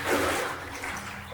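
Sloshing, splashing water from someone wading about a foot deep through a flooded abandoned service tunnel in wellington boots, a steady close wash of noise with no talk.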